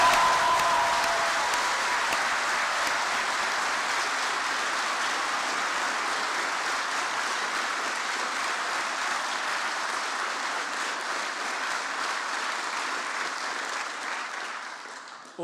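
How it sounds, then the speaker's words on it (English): A large graduation crowd at Queen's University Belfast gives a big round of applause, a dense, steady roar of clapping that holds for about fifteen seconds before thinning and fading near the end. "So big round of applause."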